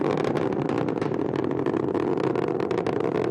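Rocket strap-on boosters firing at full thrust a minute into the launch carrying the Parker Solar Probe, a dense, steady broadband roar that holds at constant loudness throughout, with no voices.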